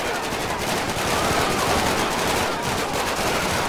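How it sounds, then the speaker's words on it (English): Sustained gunfire in GTA 5 with the LSPDFR police mod, a dense, continuous rattle of shots that fills the whole stretch at steady loudness, with no talk over it. "This guy's shooting somebody."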